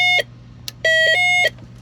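A Snap Circuits burglar alarm sounds a loud, piercing electronic beep: a short tone, a pause with faint clicks, then a longer sustained tone broken by brief stutters, over a low steady hum.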